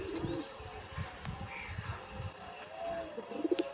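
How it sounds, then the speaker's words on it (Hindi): Pigeons kept by a hobbyist coo in soft, low, repeated pulses, fairly close and moderately quiet over a faint background hiss. "ये कबूतर है"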